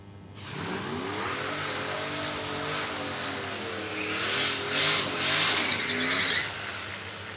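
A turbocharged Holden Commodore drag car launches at a drag-strip start line, the engine revving and climbing in pitch, growing louder with surging bursts near the end.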